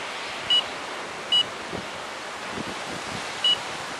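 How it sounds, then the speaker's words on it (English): Steady wind blowing across a riverbank on the Bristol River Avon, a broad continuous rush with low gusty rumble buffeting the microphone, broken by three brief high electronic beeps. "It's just impossible to tell with this wind."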